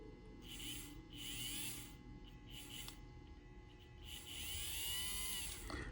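A model railroad locomotive's electric motor whirs steadily on powered track, a smooth buzzing hum that swells and fades in several passes as it runs, close and fairly quiet with no talking.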